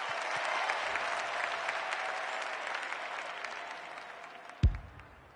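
Crowd applause in the AFL 26 football video game, a broad, steady roar of clapping that slowly fades, ending with a sudden low thump.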